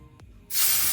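A quiet moment with a faint knock, then a sudden loud, steady broadband sizzle as chicken breast hits a hot pan greased with cooking spray, continuing strongly to the end.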